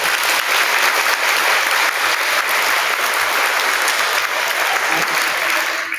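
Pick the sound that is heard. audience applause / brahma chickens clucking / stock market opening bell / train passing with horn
audience applause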